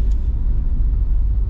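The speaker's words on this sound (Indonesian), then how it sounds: "Itu suara mesin truk lagi berakselerasi" A deep, steady truck engine rumble drones from outside as the truck accelerates, heard muffled from inside a car cabin, loud and continuous.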